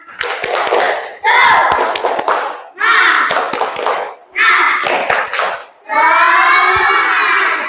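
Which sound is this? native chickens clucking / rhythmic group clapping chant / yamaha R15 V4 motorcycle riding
rhythmic group clapping chant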